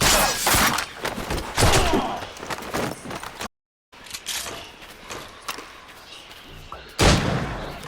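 Gunshots and impacts in Assassin's Creed Rogue Remastered, a series of loud sharp bangs with crashing, shattering debris, a brief silent gap, then another burst of fire at the end.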